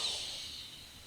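A single deep inhale through the nose during yoga breathing, a soft, airy hiss that starts strongest and fades slowly, close and quiet with no talk.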